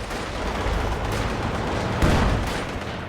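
Sustained machine gun suppressing fire in Company of Heroes 2, a dense rattling stream of shots with heavier distant booms mixed in, steady and loud through the battle.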